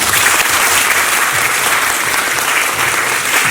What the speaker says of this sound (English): a profound gratitude to Dr. P.A. Namdar Sir with a thunderous round of applause.